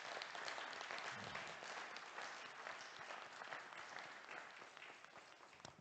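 A church congregation applauds during worship, producing dense, continuous clapping from many hands that stays steady and fairly distant before easing slightly toward the end, with no talk over it.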